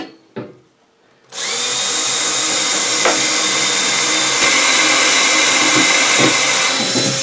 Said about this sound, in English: Switch to the pilot drill.